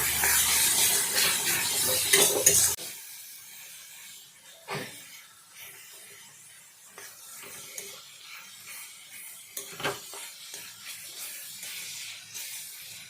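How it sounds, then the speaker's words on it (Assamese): Banana stem frying in a pan with ground spices such as coriander and cumin gives a loud, crackling sizzle for the first few seconds, then drops to a faint, occasional hiss. "কলপচলাৰ লগত গুড়া মছলাখিনি মই ভালদৰে ভাজি ল'ম 3 মিনিট"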